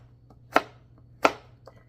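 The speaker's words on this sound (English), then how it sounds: "I'm just cutting them down in little bitty bite-sized pieces." A knife cuts apples into bite-sized pieces on a cutting board for a fruit salad: two sharp, close chops about two-thirds of a second apart, then a faint third tap, in a quiet kitchen with no talk.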